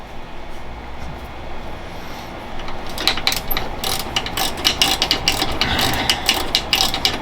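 A ratchet on an extension clicks rapidly as bracket screws come out of a Mazda RX7's radiator and intercooler area, close and crisp, starting after a quiet moment and running in quick repeated bursts.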